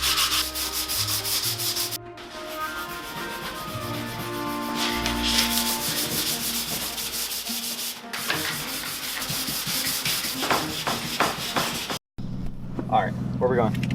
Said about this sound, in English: we're going to finish roughing up the rest of the kit